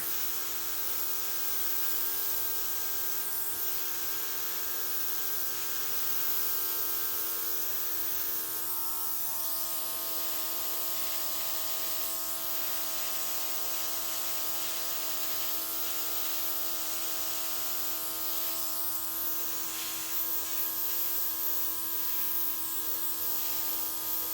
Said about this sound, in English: now I'm just going to grab my air compressor, my airbrush, and see what we got here